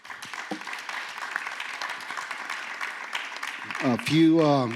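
Audience applause at a Bucharest security forum, saluting soldiers in training: a steady wash of clapping fills most of the clip before a voice begins speaking over its tail.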